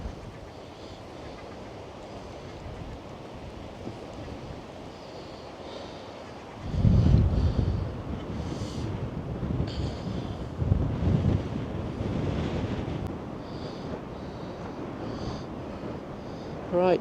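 Gusty wind buffets the microphone on a morning beach at Wells-next-the-Sea beside the pinewoods: a steady low roar that swells into stronger, louder gusts partway through, then eases back.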